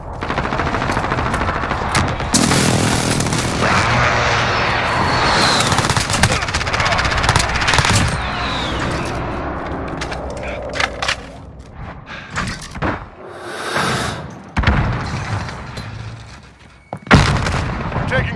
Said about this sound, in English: Friendly precision airstrike on.